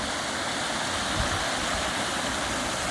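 Steady broadband roar of a winter waterfall cascading in Australia, dense, continuous rushing water close by with no pauses or talk.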